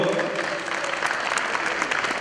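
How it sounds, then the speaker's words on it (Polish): An audience applauds Tomasz Błyskoń at the Ledent Cup 2015 event, giving a short burst of dense clapping throughout. "Wielkie brawa dla niego."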